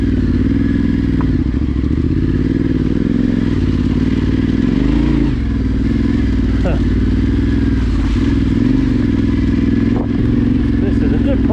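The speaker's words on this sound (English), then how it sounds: "Your T7, what a climbing machine this is." Yamaha T7 adventure motorcycle climbing an off-camber woodland trail, engine droning loud and steady with occasional clatter and thumps from roots and ruts throughout.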